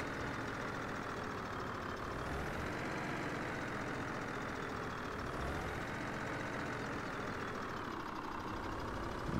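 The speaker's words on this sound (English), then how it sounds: "This is a very long truck." A very long truck's engine idles in Farming Simulator 17, a steady low rumble with a faint hum that wavers slightly in pitch and holds at an even level throughout.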